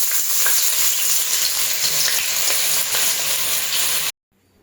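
Chopped onions sizzle and fry in sesame oil for a village-style fish curry, a steady loud crackling hiss that stays dense and even until it cuts off abruptly near the end.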